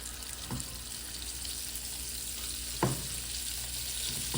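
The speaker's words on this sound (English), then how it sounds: "I'm going to let these fry and get back with you." Shrimp fry in hot grease, a steady, moderately quiet sizzle with a couple of brief clicks or knocks against the pan.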